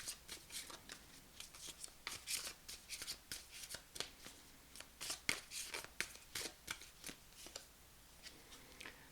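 A Fountain Tarot deck is shuffled by hand, with a rapid run of close, crisp card riffles and slaps in an uneven rhythm, heard alone and fairly quiet.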